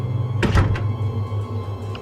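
A door is shut with a single heavy thunk and a short rattle, loud and close, followed by a low steady hum.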